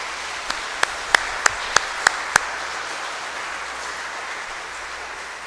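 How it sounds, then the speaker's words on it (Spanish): A Sunday evening Mass congregation claps in seven crisp, evenly spaced beats over about two seconds, then the church falls back to a quiet room hum with no talking. "Un aplauso a todos los abuelitos"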